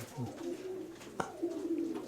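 A pigeon gives a soft, drawn-out coo, repeated twice with a brief click between, close by against quiet background noise.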